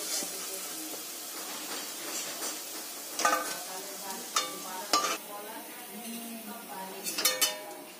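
Sweet-and-spicy pumpkin fritters sizzle steadily in hot oil in a frying pan, with several sharp metallic clinks and scrapes from a utensil against the pan as they are lifted out.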